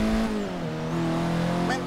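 A Honda Civic Type R in Forza Horizon 3 revs hard and pulls up through the gears. The engine whine is loud and rising, with a faint tire squeal, and someone talks over it.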